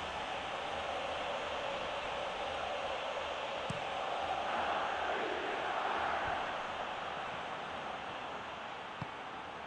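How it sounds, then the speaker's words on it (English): Stadium crowd noise in a football video game match, a broad steady roar from a large crowd swelling slightly in the middle as they urge a player to shoot, continuous throughout with no clear talk. "Crowd calling for him to shoot"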